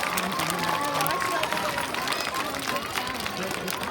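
Schoolchildren and adults clap for a student at an elementary school Veterans Day celebration, a dense, steady burst of applause from a crowd with voices mixed in throughout.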